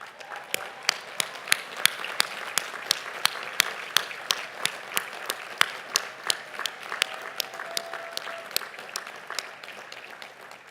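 Sparse, steady clapping from an audience congratulating 94 graduates receiving simultaneous degrees at a 2019 commencement ceremony, individual claps distinct and evenly spread for about ten seconds with no talk over them.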